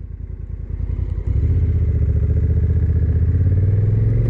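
A Honda motorcycle gets under way, its engine putting steadily at first and then rising into a louder, even drone as it reaches about 30–40 km/h, close and with no one speaking.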